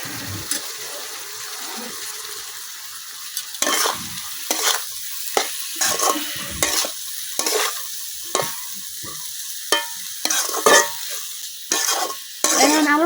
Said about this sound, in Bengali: এখন আলুটা কিছুক্ষণ ভাজালাম।